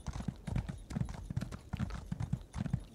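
Horse hooves gallop in the Elder Scrolls Online video game, a quick, rhythmic clip-clop of repeated hoofbeats that is loud and close throughout.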